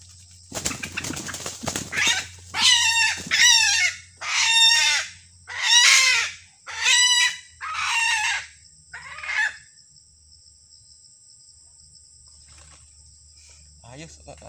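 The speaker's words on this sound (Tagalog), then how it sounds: "Yan na ang ikatlong huli nating babaeng labuyo mga kanter." A wild red junglefowl, a captured hen, gives a run of about seven loud, close, evenly spaced calls that sound like squawks or clucks, then falls quiet with faint insects behind.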